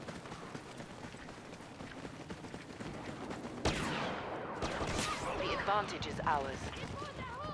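Rapid video-game gunfire from a Star Wars shooter crackles through dense battle noise, bursts of shots growing louder midway, with someone talking over the action.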